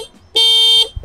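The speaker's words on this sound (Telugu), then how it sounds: "అండ్ హార్న్ చూసుకోవచ్చు మీరు." Horn of a 2025 Suzuki Access 125 scooter, a single steady electric beep of about half a second, loud and close, with faint background noise around it.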